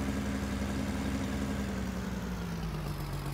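A Fendt tractor idles in Farming Simulator 22 with a steady, droning engine hum. The pitch slowly sags lower over a few seconds. No voices are heard.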